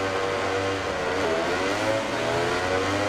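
Several racing motorcycle engines rev hard together at the race start at Silverstone in the MotoGP 19 video game, a dense, loud, continuous mechanical roar with no talk over it.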